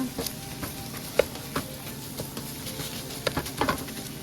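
Mushrooms for a red meat pasta sauce sizzle softly in a pan, a steady low frying hiss broken by a few light clicks and scrapes of a spoon.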